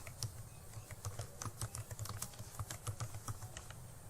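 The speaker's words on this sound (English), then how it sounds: "Click on the header box, then type the text you want to display." Keys tapped quickly on a computer keyboard, a steady stream of light close clicks while typing text, with no voice.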